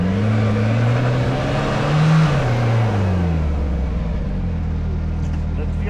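Brand-new Kawasaki Teryx5 H2 four-door side-by-side pulling in low gear, its CVT-driven engine droning loud and close with rising and falling pitch as it accelerates, while people talk over it.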